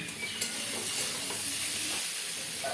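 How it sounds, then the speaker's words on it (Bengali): Bean leaf paste is cooked down in a hot pan, giving a steady, close sizzle with scraping stirs and soft knocks from a spatula, and no talk. "এটাকে আরও 2 মিনিট কষিয়ে কষিয়ে রান্না করব"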